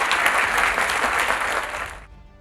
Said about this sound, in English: Please, a round of applause for the guys.